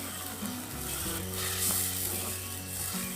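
Tamarind water hits a hot pan with a loud, continuous sizzle and bubbling, and a few tonal clanks and scrapes ring out beneath it.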